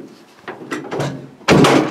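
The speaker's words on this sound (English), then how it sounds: "them doors open nice" Doors of a 1950 GMC panel trailer are worked by hand, with a few soft rattling knocks followed by a loud, close slam near the end.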